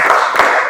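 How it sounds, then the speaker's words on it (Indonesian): Class of students doing a rhythmic spirit clap, a quick burst of several hand claps close by within under a second. "Ya, kita tepuk semangat ya."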